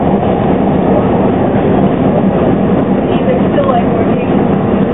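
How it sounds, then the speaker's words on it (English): A Chicago Red Line subway train runs with a steady, loud rumble and rattle of cars on the track, continuous throughout with no clear break. "This is a Red Line train to 95th."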